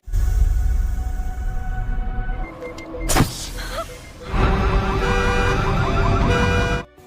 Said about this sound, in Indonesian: dan Poppy langsung menghidupkan alarm mobilnya untuk meminta bantuan.